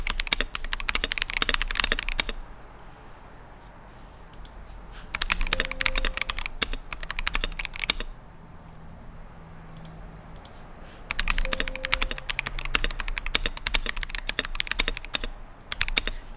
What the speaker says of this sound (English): I'm gonna do a keyboard test.